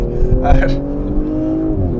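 A 2023 Audi S5 Sportback launches hard under launch control, its engine roaring loud and close with a steady, strained drone as it pulls. An exclaiming voice cuts in near the start.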